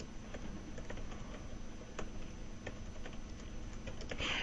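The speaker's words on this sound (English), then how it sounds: "here you type what changes people saw" Typing on a computer keyboard during data entry, with a steady patter of quick key clicks at close range and a few louder keystrokes spaced through it.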